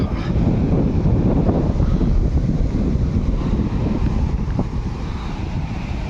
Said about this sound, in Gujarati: સમુદ્રની લહેરો તમે જુઓ